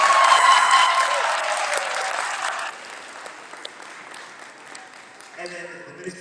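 An audience at a Pan African school event applauds invited guests, loud dense clapping at first that thins out and fades into quieter room noise after a few seconds.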